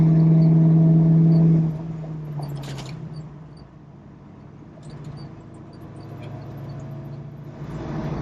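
Engine of a 1968 Ford Mustang Fastback with manual transmission, heard from inside the car: a loud steady low drone drops away after a couple of seconds, then a quieter rumble builds again toward the end, with some rattles and clicks.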